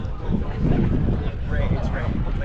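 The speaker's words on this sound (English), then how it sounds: "Very windy." Strong gusty wind buffets the microphone at a lighthouse with a steady low roar throughout, with faint voices underneath.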